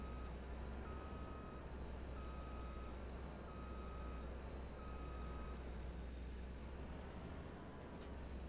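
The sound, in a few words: truck reversing with a trailer, reversing beeps, in a video game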